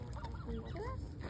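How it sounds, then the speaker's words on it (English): A small flock of geese honks close by in a quick, overlapping burst of calls. "Hey, geese."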